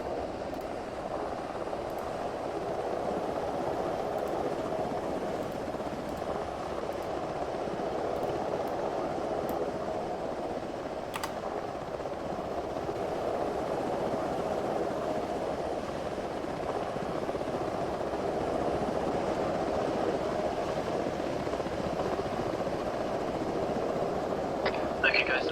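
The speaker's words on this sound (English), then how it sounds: "The other heli's on the move as well." A helicopter in the video game Arma 3 drones on as a steady, distant rotor hum underneath quiet talk, with a few faint clicks over the top.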